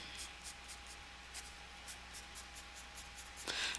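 A pen or marker steadily retracing the outlines of a drawn cube, quiet repeated scratchy strokes in a soft rhythmic pattern, with a brief louder rub near the end.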